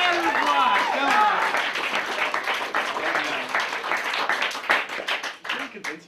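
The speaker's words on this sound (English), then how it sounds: "Get a round of applause." Studio audience applause at a late-night comedy show, steady dense clapping with some cheering voices throughout, loud and close, fading slightly toward the end.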